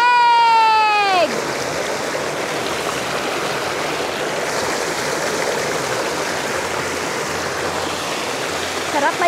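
A mountain stream at a campsite in Pangil, Laguna rushes and splashes in a steady, close wash of water, opening with a brief vocal exclamation before the flow continues alone.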